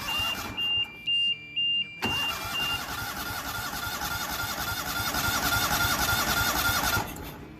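A Walker mower with a carburetor that backfires turns over, with a few chirping warning beeps, then catches and runs as a loud, steady engine drone that continues close by until near the end.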